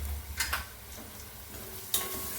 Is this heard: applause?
no